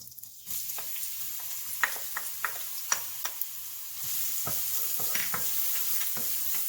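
Garlic and shallots frying in a pan until brown, a quiet steady sizzle punctuated by a series of sharp utensil taps and scrapes against the pan, with the hiss growing fuller partway through.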